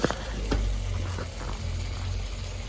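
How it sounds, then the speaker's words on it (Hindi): Soaked chana dal fries with spices in a pot for a chana dal and lauki dish, a steady soft sizzle with occasional stirring clinks and scrapes, close and continuous. "अब इसको मसाले के साथ जो है थोड़ा सा इसको 2 से 3 मिनट भूनेंगे"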